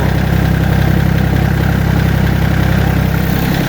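Iseki TA 235 tractor engine idling just after starting, a steady loud low-pitched throb with even pulsing and nothing else heard.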